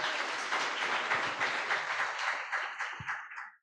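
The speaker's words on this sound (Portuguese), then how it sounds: "Você pode aplaudir ao Senhor." Congregation applauding during a Sunday evening church service, a steady wash of clapping from many hands that holds for a few seconds and then fades out.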